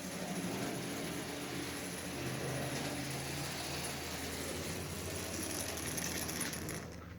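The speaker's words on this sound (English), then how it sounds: "This motor is just absolutely running splendidly." A 1930 Marx manual reverse toy motor runs on DC, a close, continuous clattering buzz of gears and mechanism that holds an even level throughout, with no talking.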